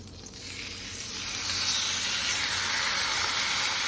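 A pork chop sears in hot oil in a pan, giving a steady, dense sizzle that grows a little louder and fuller after the first second, with no voices.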